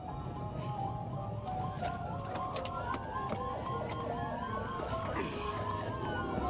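A police car siren wails with rising and falling tones over steady traffic rumble, moderately distant, with no talking.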